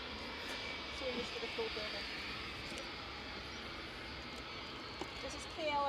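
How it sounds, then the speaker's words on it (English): A KLM airliner from Amsterdam on approach to land at Edinburgh Airport, its engine roar a steady, moderately distant drone under an outdoor wash of wind, with people talking nearby throughout. "This is KLM coming in."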